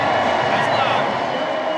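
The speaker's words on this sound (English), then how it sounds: "Listen to the crowd." Loud stadium crowd roaring and cheering at a Party Animals versus Texas Tailgaters game in Lehigh Valley, Pennsylvania, a dense sustained wall of voices with scattered clapping and no break.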